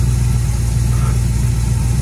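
A Chevy engine with an HEI distributor idles steadily nearby in minus 20 degree cold, with a low, even rumble and hum that holds constant throughout.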